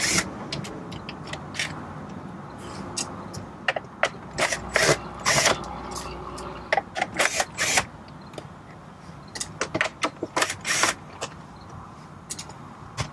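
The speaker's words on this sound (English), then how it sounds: "You then have to remove the four 7mm screws that hold the instrument cluster into the dash." A ratchet works on the 7mm screws of the instrument cluster in the dash of a 2018 Jeep Wrangler JL, making bursts of rapid, close clicking in uneven clusters with small mechanical clatter between them. No one speaks.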